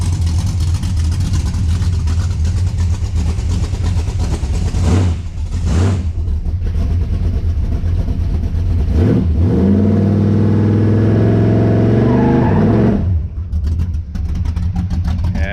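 A car engine revving hard during a burnout, loud and close, holding high RPM in long sustained pulls with short dips between them.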